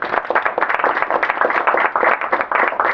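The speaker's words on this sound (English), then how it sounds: "big applause" Audience at a live panel event on ICANN and internet challenges gives a brief round of close, rhythmic clapping that fills the whole moment.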